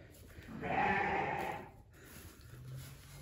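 Sheep bleating inside a barn sheep pen, one clear, fairly loud call lasting about a second, followed by quieter barn noise and a faint low second call.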